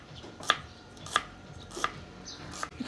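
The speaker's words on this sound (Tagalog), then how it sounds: "Maghihiwa na po tayo ng mga ricado, bawang, sibuyas para makapag-isa na." Knife chopping garlic and onion on a board, four sharp separate chops spaced about half a second apart, close and fairly quiet, with no talking.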